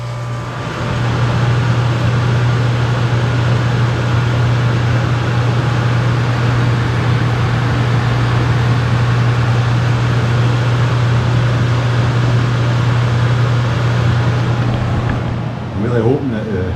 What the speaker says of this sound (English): I'm really hoping that the GoPro picks that up, because that's aircon, you cannot sleep in that.